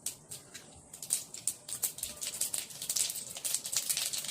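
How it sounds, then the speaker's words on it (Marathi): Mustard seeds pop and crackle in a little hot oil for tempering, a quiet start building into rapid, irregular spitting that keeps going steadily, with no one talking. "फोडणीसाठी मोहरी घालूया। मोहरी छान लालाशी तडतडू द्यायची।"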